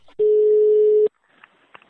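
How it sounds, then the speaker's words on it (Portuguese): A single steady telephone line tone sounds for about a second while a call is being placed, then cuts off, leaving faint quiet line noise. "Agora eu vou ligar pra Verônica"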